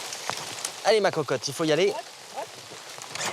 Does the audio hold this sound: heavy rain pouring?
yes